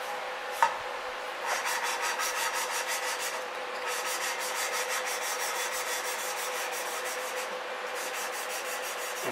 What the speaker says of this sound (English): Take our lapping tool.